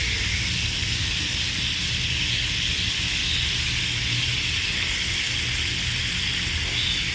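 Ahi tuna pieces sizzle on a George Foreman grill with a constant, even hiss that holds steady at close range throughout, with no talking.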